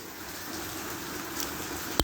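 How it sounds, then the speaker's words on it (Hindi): Heavy rain falls in a steady, even wash of hiss with no break, ending in one sharp tap near the end. "तगड़ी बारिश हो रही है"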